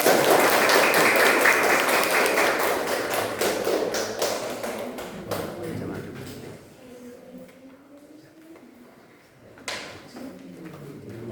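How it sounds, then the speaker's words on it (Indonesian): A classroom group applauds, a dense burst of hand clapping that fills the opening seconds, then thins into scattered claps and fades as a voice speaks softly, with one sharp tap near the end. "tepuk tangan untuk kita"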